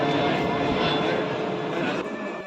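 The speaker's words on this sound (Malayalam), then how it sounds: "ഒരു പ്ലെയിൻ പോണോ" An airplane passes overhead during a Pongala temple festival at Puthiyakavu Devi Temple in Kerala, its loud, droning engine roar steady at first then fading, with faint voices around.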